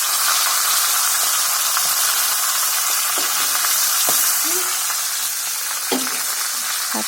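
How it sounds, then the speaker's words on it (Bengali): Fish fry in a pan for a fish curry, giving a dense, loud, steady hiss of sizzling oil with a few faint clinks and spatters scattered through it. "আর মাছগুলো ভেজে নিচ্ছি"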